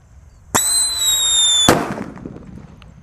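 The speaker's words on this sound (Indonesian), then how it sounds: "Black Buster seperti itu guys suaranya guys" A Black Buster firecracker lets out a sharp, high whistle for about a second, then goes off with a loud bang that quickly fades outdoors.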